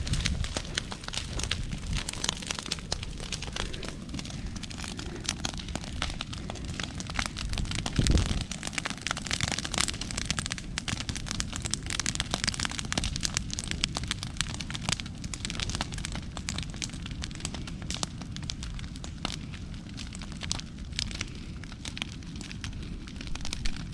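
Fire burning through a CRP grass field during a controlled burn, a steady loud crackling and popping over a low rushing roar, with one brief louder burst midway and no talk.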